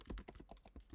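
Rapid keystrokes patter on a computer keyboard in a quick, even burst of close, soft clicks lasting about a second.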